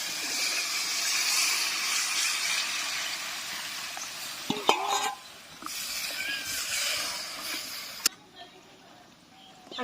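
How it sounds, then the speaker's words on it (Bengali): Water goes into fried masala in a pan, the sizzle hissing loudly, then dropping as the liquid settles, with clinks of utensils and a quieter bubbling to finish. "এখন দিয়ে দেবো জল।"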